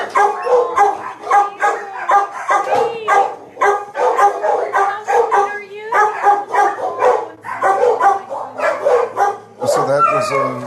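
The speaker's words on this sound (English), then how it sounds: "So that was a room full of cages of dogs who were very active." In an animal shelter kennel room full of caged dogs, including pit bulls and a couple of tiny chihuahuas, many dogs bark and yip nonstop in a loud, overlapping, echoing chorus.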